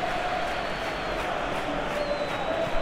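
A steady roar of a stadium crowd in a Real Madrid vs Atalanta Champions League match in the PES 2021 football video game, a continuous wash of cheering that stays constant throughout with no clear voices on top.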